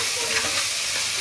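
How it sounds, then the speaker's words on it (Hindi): Onions sprinkled with salt fry in a pan on a home stove, filling the moment with a loud, close, continuous sizzle and no talk. "बेटा अब इसमें प्याज डाला है, नमक डालेंगे थोड़ा सा"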